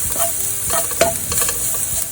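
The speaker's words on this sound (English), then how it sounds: "I'm adding the garlic, finely chopped garlic, and I will just stir it for a while till the raw smell is gone." Finely chopped garlic fried in oil while being stirred in a pan for a chicken with spring onion dish, a steady close sizzle broken by scraping strokes of the spoon and a sharp clink near the middle.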